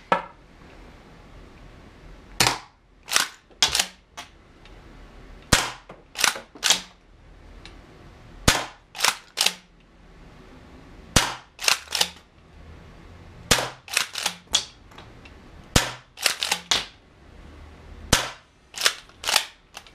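An APS CAM870 CO2 shotgun firing rubber balls outdoors: loud, sharp pops in uneven clusters of two to four shots, separated by short pauses, with no talking.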